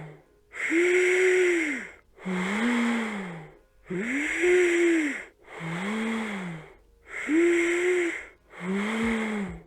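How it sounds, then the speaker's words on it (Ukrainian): Six strong, rhythmic breaths are drawn in and pushed out through a fist held like a straw, each a breathy, whistling, voiced rush separated by brief silences, close to the microphone. "щоб вдох та видих був чітко через уявну соломинку з нашого кулачка"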